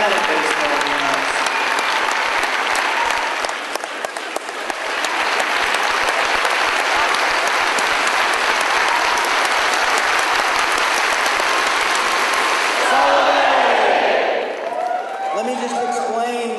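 Sustained applause from a large conference audience at the Socialism 2010 gathering in Chicago, dense and steady for most of the stretch, swelling briefly near the end before fading, with some voices mixed in.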